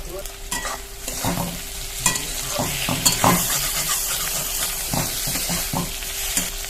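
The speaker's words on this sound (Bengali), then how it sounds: "নাড়াচাড়া দিয়ে আবার ঢাকনা চাপা দিয়ে দেবো।" Brinjal and chopped tomato stirred in a hot pan, a continuous sizzle broken by repeated scraping strokes of a spatula, close and fairly loud.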